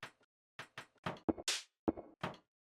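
Recordings of dropped objects serve as percussion, a sequence of short knocking and thudding hits with irregular spacing, some dull and woody, one brighter noisy clatter, each decaying quickly into silence.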